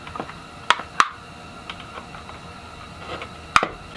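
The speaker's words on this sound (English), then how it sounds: "I'm just going to use a very small screwdriver and work that in there to pop those tabs free." A very small screwdriver pries at plastic tabs to pop the third brake light lens loose on a 2005 Ford Escape, giving a few sharp close clicks and snaps among faint scraping in a quiet space.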